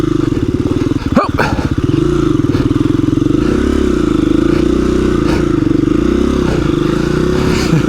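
A KTM 350 EXC-F dirt bike labors up a steep trail, its close engine chugging and revving in pulsing bursts with clutch slips, a sharp clattering knock near the start, and no talking over it.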